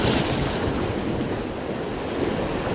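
Sea waves surge and wash steadily along the shore during rod fishing from the beach, a continuous broadband roar mixed with wind buffeting the microphone, loud and unbroken with no talk.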